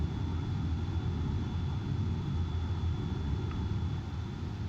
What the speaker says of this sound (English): I assume a plane was going over the head of us.